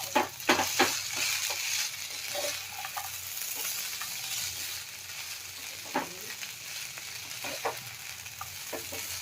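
Spoon stirring batata poha, flattened rice with potatoes, as chopped coriander leaves are mixed in a pan on a gas stove, giving soft intermittent scraping and gentle sizzle, close and fairly quiet, with no talking.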